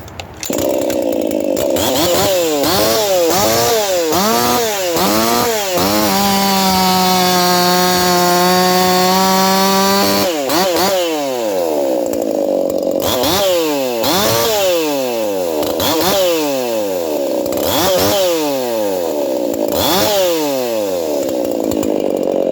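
Small carbureted chainsaw engine running loud and close, revving repeatedly up and down, then holding a steady high rev before resuming quick throttle blips.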